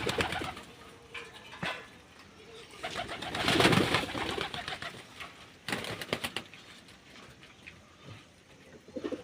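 Pigeons feeding on scattered paddy grain on a cold January day, soft cooing and calls mixed with pecking and scattering sounds, fairly close, with a louder burst midway and faint human voices in the background.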